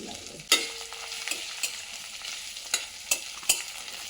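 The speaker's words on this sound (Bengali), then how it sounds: "এগুলো প্রথমে ভালোভাবে নেড়ে নিতে হবে।" Chopped ginger, garlic and cumin sizzle steadily in a hot pan while a spoon scrapes and stirs, with several sharp clacks against the pan's sides.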